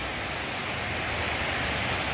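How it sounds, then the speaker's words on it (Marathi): Heavy rain pours steadily during a monsoon trek to Kaldurg Fort, a dense, even hiss of drops striking surfaces all around, close and constant with no voices. "अरे यार जोरात आला पाऊस"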